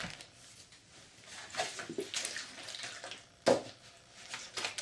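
Spring water pours and splashes into a container close by, a soft gurgling stream with a brief louder slosh.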